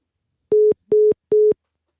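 A telephone busy signal sounds after a call on a board game call-in radio show is hung up: three identical short electronic beeps, loud and evenly spaced, with silence between them.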